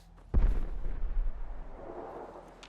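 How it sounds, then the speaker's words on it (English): A single explosion in Fallout 4 booms out with a sharp onset, then a deep rumbling tail that rolls on and slowly fades over a couple of seconds, heard alone. "Why is there always something exploding every other day?"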